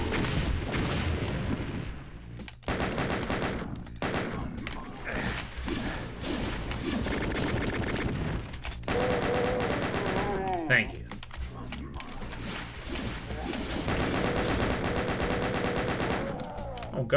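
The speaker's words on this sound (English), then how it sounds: "God, how many chain gunners are there?" Chaingunner machine-gun fire in the video game Doom, rapid bursts chattering loudly across most of the stretch, broken by brief gaps and mixed with other game sounds.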